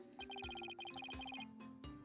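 Repeating electronic phone ringtone from the Apollo Justice: Ace Attorney video game, a bright chiming pattern of quick beeps in short bursts over soft background game music.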